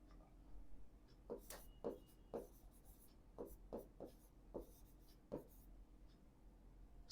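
Chalk or marker taps and scratches out an equation on a board in short separate strokes, quiet and close, with pauses between bursts in a hushed room.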